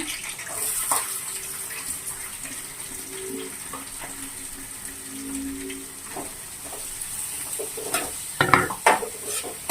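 Onions are added to a pan and fry with a continuous hiss and sizzle, mixed with soft stirring and a few louder scrapes near the end.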